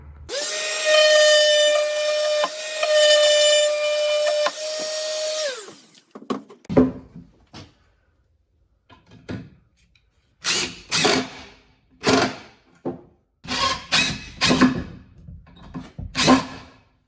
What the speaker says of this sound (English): I'm gonna go in little ridges like this with the sander, just try and clean it up